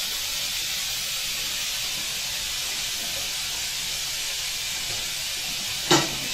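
Lamb steaks sizzle in a frying pan with a steady, even hiss held close, unbroken throughout, with a single sharp click near the end.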